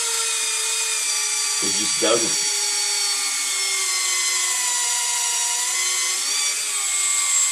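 Battery-powered drill with weakening batteries spinning in a steady high whine, its pitch shifting slightly, with a brief voice speaking partway through.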